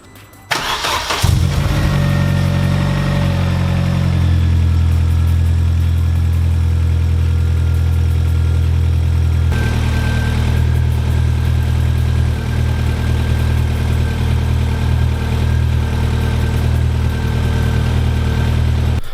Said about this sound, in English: So there we go, the Corsa finally runs again